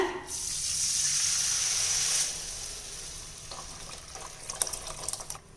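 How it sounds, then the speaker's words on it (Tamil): Strained tamarind water hits hot oil and spice powder for temple-style puliyodharai. A loud, bright sizzling hiss lasts about two seconds, then settles into quieter bubbling with a few light clinks of utensils. "நம்ம கரைச்சி வடிகட்டி வச்சுருக்க புளித்தண்ணி சேர்த்துடலாங்க"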